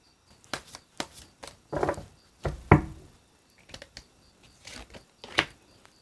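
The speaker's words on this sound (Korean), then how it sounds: "오라클 카드 뽑아볼게요" Oracle cards being shuffled and drawn by hand: a series of quick, close papery riffles and flicks, with a few fuller shuffling bursts in the middle and sharp card snaps toward the end.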